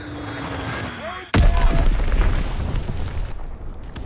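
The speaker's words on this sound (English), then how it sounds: "Enemy bomb incoming!" An enemy bomb explodes in Call of Duty WWII gameplay; after a quieter stretch with faint whines, a sudden loud, deep boom hits and then rumbles on as a dense, sustained roar.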